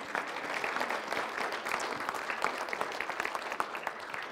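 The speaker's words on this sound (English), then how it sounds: "Give them all a good hand clap." Applause from a church congregation at a Sunday service, a dense, steady wash of many hands clapping together for several seconds with no speech over it.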